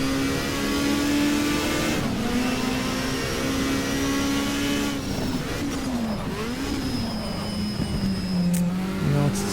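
A 1987 WTCC touring car in the GTR2 racing game at Brno holds a loud, steady engine drone, then accelerates with rising and falling revs as it shifts gears, up close and without talking.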